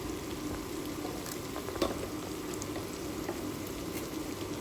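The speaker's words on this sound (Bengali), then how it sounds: "আমি এখানে পেঁয়াজ মরিচগুলো ভেজে ব্যবহার করছি" Onions and green chilies frying in a pan for raw banana kebab, a continuous soft bubbling sizzle holding steady throughout with a faint clink or two, no voices.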